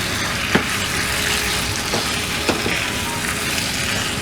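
Capsicum and potatoes cook in a pan over a medium flame, giving a steady soft sizzle with a few sharp clicks of stirring.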